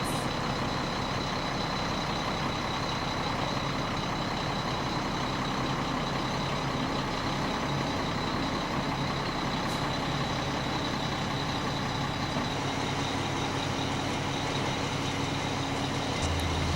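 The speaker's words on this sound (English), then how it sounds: "The boom truck brings in the roll beams, moving slowly and carefully past the jacks." A boom truck slowly brings in roll beams past jacks at a house move, its engine a steady, loud, low rumble with a faint tonal whine, running continuously without talk.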